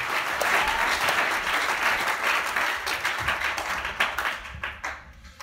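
A church congregation applauds in a warm, steady wash of clapping that thins into scattered claps toward the end.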